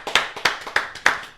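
A few podcast hosts clap in a short, loose burst of about five sharp, close claps, alone with no talking.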